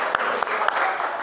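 A classroom of students gives a short burst of clapping during a lesson, with a few sharper claps standing out from a steady patter. It lasts only about a second.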